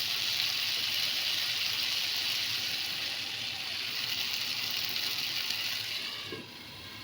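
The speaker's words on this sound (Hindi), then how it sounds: "अब हम इसमें पानी ऐड करने के बाद 10 से 15 मिनट हल्की आंच पे इसको पकाएंगे।" Ridge gourd curry with added water simmers steadily in a pan over low heat, giving a continuous soft hiss and bubble with no talking, easing off slightly near the end.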